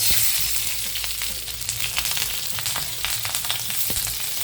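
Chopped green chillies sputter in hot oil with a loud, dense crackling sizzle and many small pops throughout, close up and with no speech.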